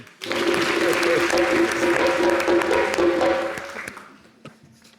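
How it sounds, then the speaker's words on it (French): A television studio audience breaks into loud, dense applause that holds steady for several seconds, then tapers off to a few scattered claps. "On l'applaudit."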